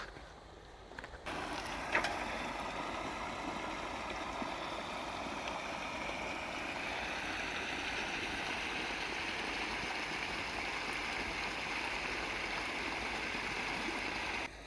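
Irrigation water from a motor pump pours steadily along a small farm channel in a village field, a constant, even rush of flowing water heard up close with no talking.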